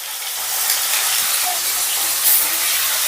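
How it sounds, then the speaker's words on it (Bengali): Diced paneer frying in hot oil, a loud, steady, close hiss and sizzle throughout without pauses or talk. "পনিরটা এবার হালকা লাল লাল করে ভেজে নেব।"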